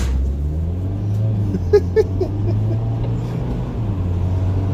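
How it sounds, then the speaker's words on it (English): A car on a rural road rolls past, a steady low rumble swelling and holding near the listener, with a couple of brief knocks in the middle and faint voices underneath. "Oops, here comes the car."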